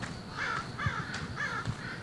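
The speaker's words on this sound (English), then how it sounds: "Crows." Several crows caw in a steady rhythm, four or five harsh calls spaced evenly, fairly close and clear over a quiet outdoor background.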